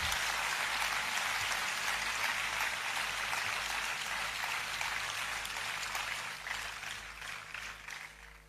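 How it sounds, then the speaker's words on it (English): A large crowd applauds at a university convocation ceremony for awardees and their parents. The clapping is dense and sustained, like a steady wash, and fades slightly toward the end with no talk over it. "a big round of applause for the awardees and their parents"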